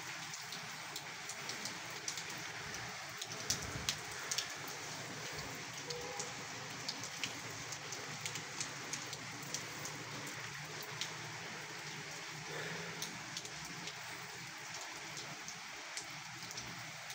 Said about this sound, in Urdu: بہت ہی خوبصورت بارش ہو رہی ہے، بہت ہی انٹرسٹنگ بارش ہو رہی ہے